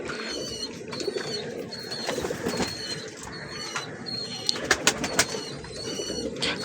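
Allahabadi Kalchira pigeons, a male and female pair, coo repeatedly in low throaty phrases, with bursts of wing flapping and a few sharper flutters near the end, close and clear with no talk.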